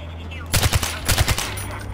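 Rapid bursts of automatic gunfire from the Far Cry 4 video game crack out in two close clusters of sharp, loud shots, separated by a brief pause and followed by quieter game ambience.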